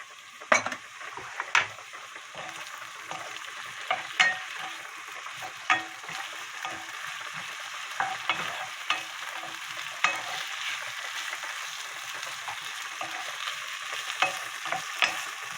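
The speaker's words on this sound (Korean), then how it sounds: "이제 먼저 이렇게 볶다가 나중에 이제 쭈꾸미를 넣어야 돼요" Vegetables stir-fry in a pan for a baby octopus noodle dish, a continuous moderate sizzle punctuated by regular close clacks and scrapes of a utensil against the pan, with no talking.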